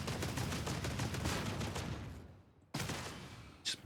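Sustained rapid gunfire from a weapon emptied in a continuous magazine dump in Warhammer 40K: Darktide, loud dense automatic shots that fade, cut out, then resume briefly with a final sharp burst.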